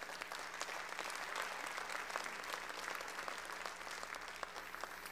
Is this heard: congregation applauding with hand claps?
yes